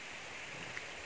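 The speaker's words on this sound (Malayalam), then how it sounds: "മഴയുണ്ട്," Steady rain at a misty, fog-covered hilltop at Panjalimedu, a soft even hiss of falling drops with no voices.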